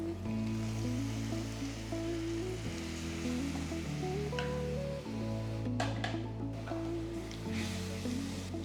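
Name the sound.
adding water to cooking peas masala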